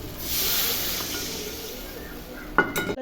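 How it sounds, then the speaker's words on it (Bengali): Broth poured onto spices fried in oil for a Bengali fish kalia, giving a loud steady sizzle and hiss that slowly fades, then a brief clatter of a pot or utensil near the end. "মশলাটা কষানো হয়ে গেছে, এখন ঝোল দিয়ে দিচ্ছি।"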